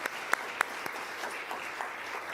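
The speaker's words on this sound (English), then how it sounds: "So I would like us to please give a round of applause for our panel tonight." Applause for a panel at an evening parent education session, a faint, brief scatter of claps with a few sharper single claps standing out early, fading quickly.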